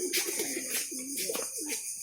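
Pigeons on a pigeon farm coo softly and repeatedly at close range, with low throaty calls that rise and fall over a quiet background.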